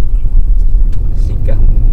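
A Hyundai Stargazer car accelerates in racing drive mode on the road, a close, loud low engine rumble droning steadily throughout a short stretch of driving.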